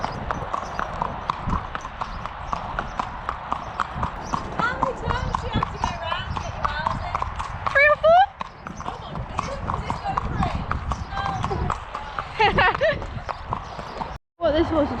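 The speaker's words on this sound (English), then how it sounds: "This is a lovely canter, Estrid." Rhythmic hoofbeats of an endurance horse cantering on soft ground, recorded from the rider's helmet, repeating steadily under people talking, with a brief pause partway through.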